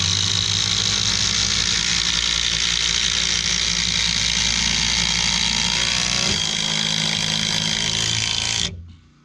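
DEWALT and RIDGID impact drivers race each other driving fasteners into fence lumber, a loud steady whirring buzz that runs continuously for about eight seconds, then cuts off abruptly.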